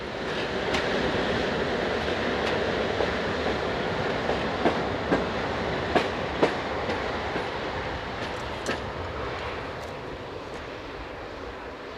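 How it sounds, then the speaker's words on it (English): Polish electric locomotive EP09031 rolls past at steady speed, a continuous rail rumble punctuated by regular clicks of wheels crossing rail joints, moderately close and without voices. "electric locomotive number EP09031 runs past the camera before awaiting its next turn of duty"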